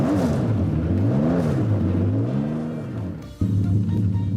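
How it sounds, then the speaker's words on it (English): A TVR Speed 12 engine in the Driving Empire racing game rises and falls in pitch through several revs, then drops briefly and climbs again as a gear change kicks in, loud and close. "the best sounding from TVR would be this TVR Subaru Speed 12 for me"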